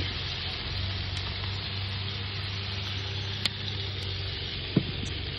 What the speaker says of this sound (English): We're going to try to do four burgers at a time.